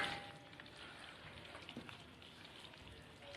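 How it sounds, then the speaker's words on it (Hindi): Chicken frying in oil in a pan gives a soft continuous crackling sizzle, faint and close, with no voices. "अब इसको 5 मिनट के लिए भून लेंगे हम ऑयल के साथ अच्छी तरह से"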